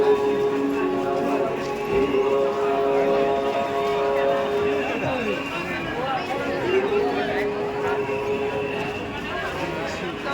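A dense crowd presses through a Kali Puja pandal in Siliguri with Chandannagar lighting, making a steady, close wash of overlapping voices and chatter, with sustained tonal sounds running underneath.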